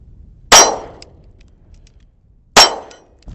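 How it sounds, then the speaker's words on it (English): A Taurus pistol fired one-handed: two loud, sharp shots about two seconds apart, each with a short ringing decay, with no talking. "we're going to go ahead and do one-handed with the Taurus and see how she does on recoil"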